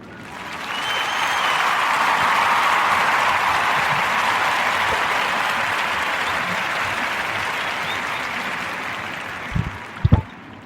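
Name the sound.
applause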